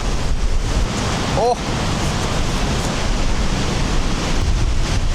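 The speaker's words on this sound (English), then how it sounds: "It is crazy windy here. This is some serious wind." Strong wind buffets the microphone on an island coastline, with waves surging as a loud continuous roar. A person briefly exclaims partway through.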